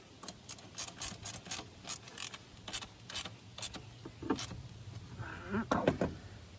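A ratchet tightens intake clamp bolts on a Ford F150 cold air intake, making a series of quick, close mechanical clicks in short bursts with brief pauses between and no speech.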